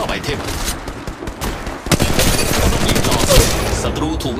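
Rapid gunfire in the mobile battle royale game Apex Legends Mobile, loud dense bursts of automatic shots fired close up, with game sounds throughout and a voice heard faintly among the shots.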